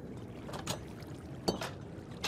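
Water flows and splashes in a flooded room in Minecraft, a faint steady wash broken by a few short sloshing bursts, with no voices.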